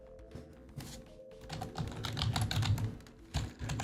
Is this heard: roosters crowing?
no